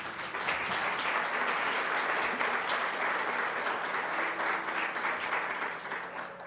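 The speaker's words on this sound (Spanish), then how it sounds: "recibimos con un fuerte aplauso a la maestra Norma Isela Sandoval Ramírez" A forum audience breaks into sustained, dense applause to welcome someone speaker at an optometry event, steady throughout and tapering slightly at the end.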